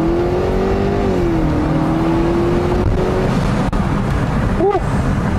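A 2005 Subaru Outback 2.5XT accelerates hard, with a steady, loud engine drone heard from inside the car. Wind and road roar sit under it, and a short vocal whoop comes near the end.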